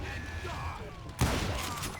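A single loud gunshot cracks out midway through a scene in Call of Juarez: Gunslinger, breaking a low background murmur and leaving a short ringing tail.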